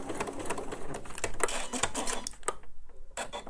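A sewing machine stitches the seam of a purse in a close, rapid mechanical clatter of needle strokes, pausing briefly toward the end before resuming.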